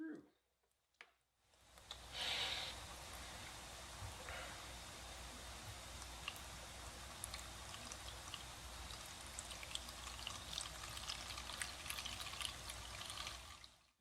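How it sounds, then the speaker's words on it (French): Water pours from a terrarium drainage valve into a bucket, starting as a soft splash after a brief click and then running as a steady, fairly faint trickling stream to the end. "Aussitôt que j'ouvre la soupape, l'eau se met à couler."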